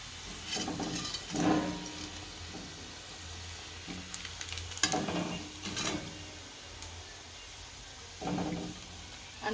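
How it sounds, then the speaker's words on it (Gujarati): Leftover-rice vadas (Gujarati bhaat na vada) frying in hot oil in a home kitchen, giving a soft, steady sizzle with intermittent clinks and scrapes of a utensil stirring and lifting them. "આ રીતે બધા તળી નાખશું આપણા ભાતના વડા"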